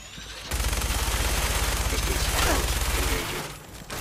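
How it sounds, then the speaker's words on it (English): A minigun in Fallout 4 fires one continuous rapid burst for about three seconds, a loud buzzing roll of shots that ends abruptly before a short tail. "Minigun should work."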